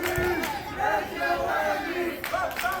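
A wrestling arena crowd roars loudly and continuously at a QCW match, with shouts and scattered whoops, and a commentator's voice running over the noise.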